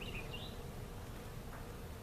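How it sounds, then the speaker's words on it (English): A quiet, steady buzzing of honey bees in an opened nuc hive, a low insect drone with occasional higher whines from individual bees passing near. "there's quite a few bees in here"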